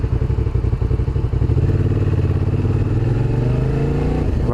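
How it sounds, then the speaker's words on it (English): A Suzuki SV650 motorcycle engine fitted with a Leo Vince exhaust and db-killer baffle runs loud and steady up close, its low throbbing note climbing in pitch as it accelerates near the end. "Yeah, the engine runs really well."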